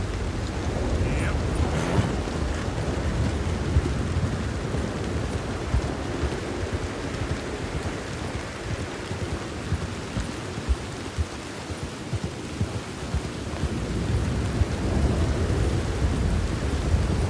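Steady rain pours with rolling thunder in a Red Dead Redemption 2 storm, a dense continuous hiss and low rumble that holds at an even level throughout, with no talking.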